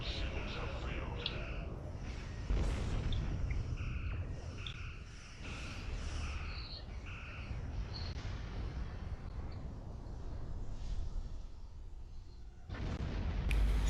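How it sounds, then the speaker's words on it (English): Explosions in a space battle video game rumble in a few heavy, muffled bursts beneath a steady low drone, with quieter blips and tones scattered between them. "Pretty explosions."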